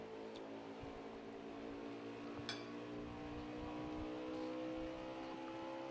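Onboard engine of an Xfinity race car lapping Iowa in a racing video game, a steady droning hum with slight rises, faint and continuous with no talk.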